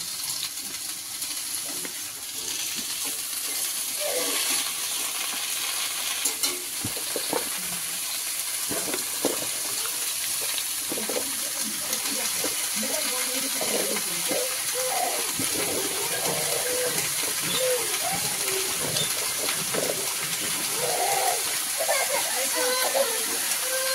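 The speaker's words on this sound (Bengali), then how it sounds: "এই শাকগুলো একটু আলুর সাথে একটু ভেজে নেব।" Fresh pumpkin greens fry with potatoes in a pan, a continuous hiss with scattered crackles and stirring sounds while a person talks over it.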